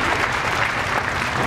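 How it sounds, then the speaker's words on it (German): A short burst of loud, dense audience applause at a clown show, an even wash of clapping with no voices over it. "Applaus."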